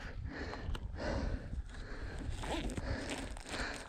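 A backpack zipper rasps in several short, close pulls with brief pauses between them, alongside faint handling and rustling of the bag.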